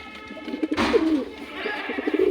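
Pigeons, including chicks, coo close by in soft, throaty rolling calls, a few overlapping murmurs rising and falling over a low steady hum.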